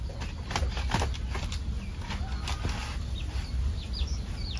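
Chickens clucking indoors in a house near a kitchen, soft repeated calls and short chirps over steady low background noise, with occasional light rustling or wing movement.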